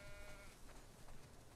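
A faint sheep bleat, short and wavering, heard once against a quiet background, in the video game The Last of Us Part II.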